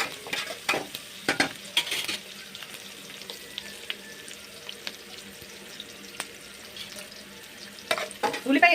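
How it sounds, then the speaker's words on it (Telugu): Onion pieces fry in a pan with green chilies and curry leaves while a utensil stirs them, giving a steady soft sizzle punctuated by scraping clatters, close and moderately loud, with no talking. "ఉల్లిపాయ ముక్కలు కొంచెం వేగేదాకా తిప్పుకోండి."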